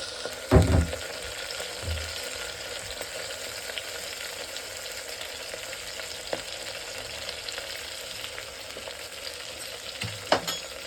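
Garlic and curry leaves frying in a pan give a steady, close crackling sizzle, with a few louder utensil knocks and stirs near the start and again near the end.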